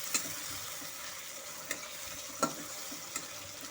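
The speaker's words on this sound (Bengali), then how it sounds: "সব কিছুর সাথে এখন আমি মশলাটা ভালো মতো করে কষে নেব।" Spice paste with Kashmiri chili powder and salt frying in a pan for a Bengali mourala fish curry, a steady broadband sizzle with a few sharp scrapes of a stirring spoon, alone and fairly quiet.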